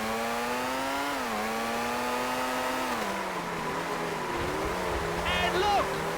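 A Formula One car engine in the PS2 racing game Formula One 2001 whines steadily with a high harmonic tone, its pitch rising and dipping through gear changes, with race commentary talking over it.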